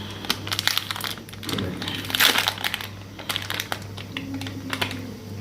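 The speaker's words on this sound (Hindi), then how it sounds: "आप कागज़ फाड़ भी सकते हैं" Paper wrapper being torn and crinkled off a frozen homemade Oreo creamy kulfi, a run of close, dry crackling rustles with one louder tearing burst midway, over a steady low hum.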